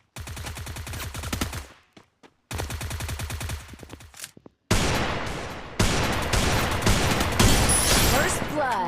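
Desert Eagle pistol fire in a shooting video game: repeated rapid shot bursts in loud, punchy volleys, broken by short silences, with a voice talking over the later shooting.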